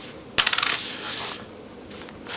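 A US two-cent coin drops onto a hard surface, giving one sharp metallic strike followed by a quick series of diminishing rattling bounces, close and clear with no speech.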